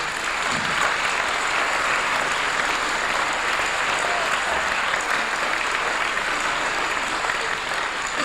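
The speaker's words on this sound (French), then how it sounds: "N'applaudissez pas trop parce que vous n'avez pas encore vu le spectacle" An audience at a choral stage show clapping, a long dense wash of applause at even loudness from start to finish.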